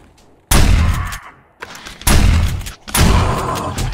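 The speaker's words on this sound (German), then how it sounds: "Gewehr!" Rifle gunfire in the survival video game 7 Days to Die: three loud, sharp close-range shots spaced about a second apart, each with a booming crack and a short decaying tail.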